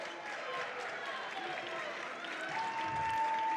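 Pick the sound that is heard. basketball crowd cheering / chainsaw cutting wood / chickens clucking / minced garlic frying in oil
basketball crowd cheering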